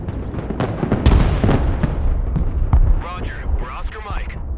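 Artillery fire in the military video game Broken Arrow: several heavy, booming blasts crowd the first three seconds, then a radio-style voice speaks over the fading rumble.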